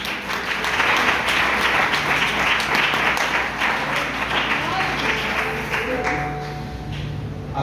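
A church congregation applauds during a worship service, a steady broadband wash of clapping that stays loud and dense for the whole stretch, with a few voices faintly underneath.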